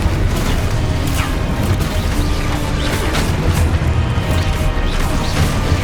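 Loud, continuous spell explosions and crashing impacts fill a Hogwarts Legacy battle, sharp blasts and booms following one another densely over a constant rumbling din.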